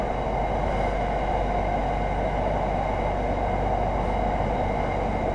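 A Bangkok SRT Red Line electric train runs between Bang Sue and Taling Chan, producing a steady, unbroken rumble and hum that stays even in loudness throughout, with no voices.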